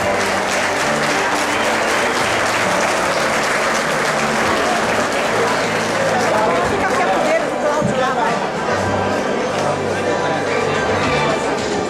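Loud, dense applause from a crowd honoring guests at a club ceremony, steady and continuous throughout with faint chatter underneath.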